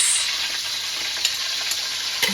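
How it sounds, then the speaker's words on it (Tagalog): Onions sautéing in hot cooking oil in a skillet, a steady close sizzle with faint stirring scrapes throughout, no voices. "Igigisa lang natin yan sila."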